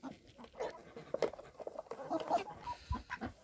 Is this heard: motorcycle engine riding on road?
no